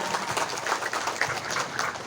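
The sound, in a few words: audience applause for the organizers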